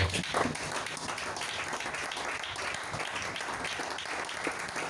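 Church congregation applauding in praise of Jesus, a dense sustained burst of clapping from many hands filling the room at steady loudness throughout.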